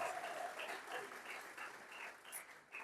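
Applause from a church general assembly congregation in Jimma, Ethiopia, a soft, distant wash of many hands clapping that swells and fades slightly, faint throughout, with no voices.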